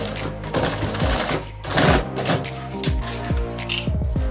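A sewing machine stitches a travel bag, running in quick mechanical bursts with short stops between them, close and clear with no speech.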